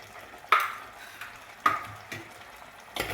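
A spoon stirs crab curry with masala paste in a pan, making a few distinct scraping, clinking strokes spaced about a second apart over a faint background hiss.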